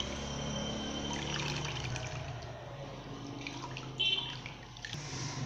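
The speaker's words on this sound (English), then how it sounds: "This is the final one that I'm going to sieve." Thick homemade tiger nut drink being poured through a sieve, a steady wet trickle and splash of liquid that continues throughout at moderate volume, with small drips and no talking.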